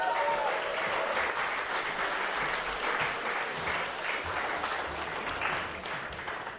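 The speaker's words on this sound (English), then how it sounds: "please, a big round of applause for the Deputy Lord Mayor of Brisbane, Councillor Julian Simmons." Audience applause fills the room at an awards night for a Brisbane event, a dense, steady clapping that keeps going for several seconds and fades slightly near the end.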